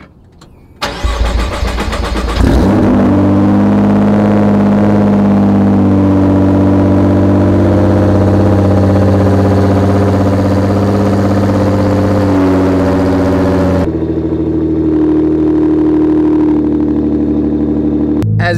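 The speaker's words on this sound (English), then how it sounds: "I think this is the first cold start that you guys are gonna see on this channel." Cold start of a 750-horsepower Nissan GT-R, very loud: the starter catches, the engine flares into a harsh high idle, holds steady for several seconds, then settles to a deeper, rougher idle.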